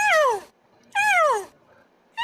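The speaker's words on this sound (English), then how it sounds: "There's the cat." A cat meows three times in quick succession, each call loud, close and falling in pitch, with short silent gaps between.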